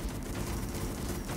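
A shotgun fires in a video game in a loud, dense burst of overlapping blasts that fills the whole moment with no pause.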